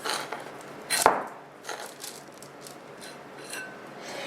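Scooping material out of a deep mold for faux ice cream cones, heard as a sharp scrape near the start, then softer repeated scraping and rubbing strokes, close up with no talking.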